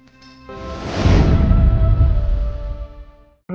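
Steady broadband hiss of heavy rain swelling in over a second, holding loud and even, then fading before a brief cutoff.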